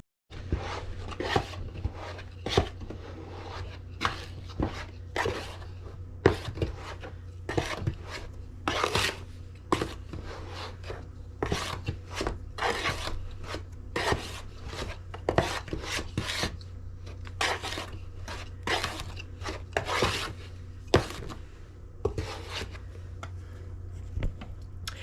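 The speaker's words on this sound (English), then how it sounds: "get a large spoon and really make sure we stir this well" Bread dough stirred with a large spoon in a bowl, a long run of close rough scraping and thudding strokes in an irregular rhythm.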